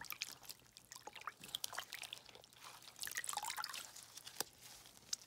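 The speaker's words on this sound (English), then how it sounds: "and we're going to just rinse that all off now." Washed raw fleece locks being rinsed by hand in a basin of clean water, soft irregular drips, splashes and trickles, close and quiet with no talking.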